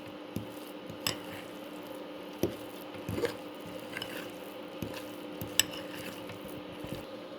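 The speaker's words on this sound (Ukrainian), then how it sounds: "І добре розмішую начинку до однорідності." Cheese snack filling mixed with greens, garlic or green onion, stirred by hand in a bowl: soft squishing, scraping strokes with occasional sharper taps of the utensil, close and steady.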